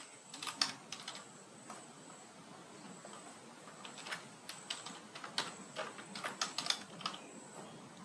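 Quiet, close computer keyboard typing: irregular bursts of light key clicks that come in clusters with short pauses between them and build toward a faster run near the end, with no speech over them.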